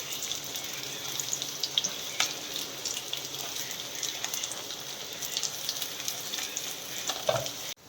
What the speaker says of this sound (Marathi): सर्वप्रथम मी कांदे टाकते याच्यामध्ये. आपल्याला गोल्डन होईपर्यंत थोडेसे परतून घ्यायचे कांदे.